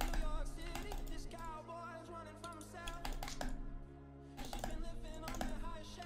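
Computer keyboard keys and mouse buttons click in quick irregular bursts while playing a strategy war game, the taps clustered and repeated under steady background music.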